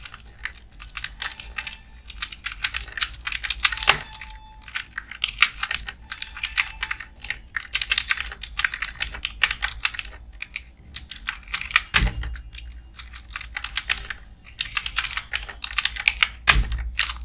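Rapid, uneven clatter of keys on a computer keyboard, steady bursts of typing with a few sharper thumps, close and alone with no voices.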